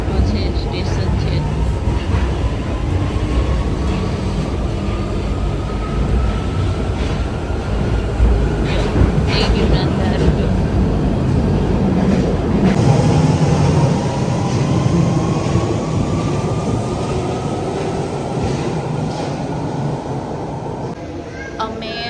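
A train rumbles and clatters between stations, with rising whining tones from the moving cars. Voices talk at times over the loud, continuous ride noise.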